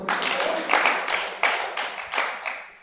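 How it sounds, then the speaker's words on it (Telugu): Audience clapping hands at a church gathering, a series of brisk, fairly close bursts of applause rising and falling in uneven waves with short gaps between them. "కొట్టండి చప్పట్లో"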